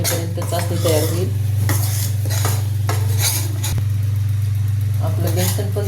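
Besan (gram flour) roasting in a pan on a gas stove while being stirred, with steady scraping and light clinks of a spoon against the pan over a constant low hum, and some talk in places.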